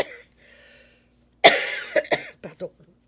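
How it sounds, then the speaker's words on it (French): A man coughs in a few sharp, close bursts right after a brief spoken phrase, followed by short throaty catches. "C'est d'ailleurs pour la raison pour laquelle je tousse beaucoup ces temps-ci"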